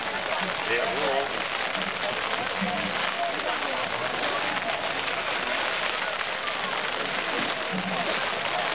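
Steady rain pours down outdoors at a night high school football game, a constant dense hiss of drops hitting surfaces, with faint voices and crowd murmur mixed underneath.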